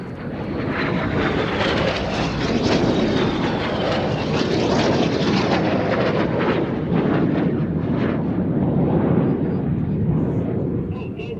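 Red Arrows aerobatic jets fly past at the Sywell air show, a loud, sustained roar of jet engines that fills the whole stretch, with a commentator's voice faintly mixed in.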